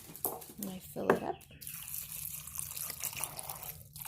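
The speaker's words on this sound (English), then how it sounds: "Then I take the water and I fill it up." Water trickles and splashes into a bowl of pomegranate seeds, a soft, uneven pouring with a few brighter drips near the start, quiet and close.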